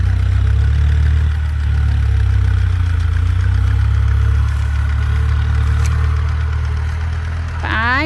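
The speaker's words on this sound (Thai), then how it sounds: "รถไถเดินตาม" A walking tractor's small engine idles steadily throughout, a low continuous chugging rumble close by, with a brief higher whine near the end.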